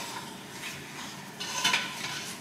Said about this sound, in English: Sunny, you want to go ahead and stir that up and coat that rice?